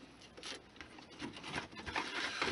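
Hand saw cutting a small piece of scale 8x8 wood stock for an HO-scale model, a soft, close rasping scrape in uneven strokes at low volume, with no talk.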